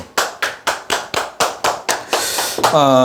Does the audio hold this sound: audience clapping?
yes